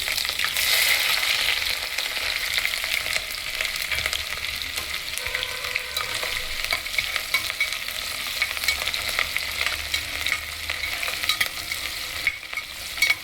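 Chopped onion and green chili sizzling in hot oil for a mushroom curry, a bright continuous hiss with faint scraping of stirring throughout, close and steady.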